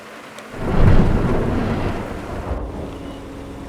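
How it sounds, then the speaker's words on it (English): A deep rumble of thunder rolls in and lingers over steady July monsoon rain on a wetland, with wind buffeting the microphone; no voices. "The arrival of rain in the month of July quenches the thirst and recharges the wetland."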